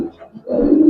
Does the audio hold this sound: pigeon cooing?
yes